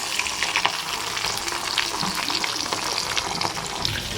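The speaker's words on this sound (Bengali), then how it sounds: "মাছটা কড়া কড়া করে ভাজলাম।" Fish frying crisply in oil, a continuous dense sizzle and spatter, close and steady, with no talking.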